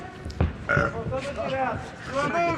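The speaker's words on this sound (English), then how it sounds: "I think that was a belch break." A belch rumbles out during a championship fight broadcast, a short low burp tangled with commentators talking over crowd noise.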